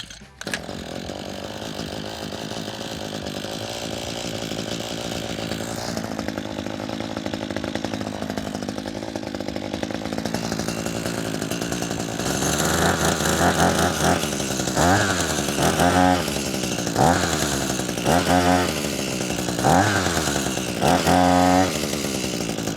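A small gas-powered earth drill starts up and runs, engine droning and rising with repeated revving surges as it bores a hole into the ground during a termite treatment setup, loud and close with no talking.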